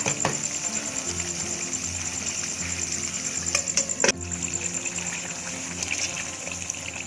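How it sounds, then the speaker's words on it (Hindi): Tamarind water is poured into a pot of kofta biryani, making a steady gushing pour over a constant low kitchen hum, with a few brief clinks near the middle. "अब मैं इसमें 1/2 प्याली छोटे वाली इमली की शामिल करूँ।"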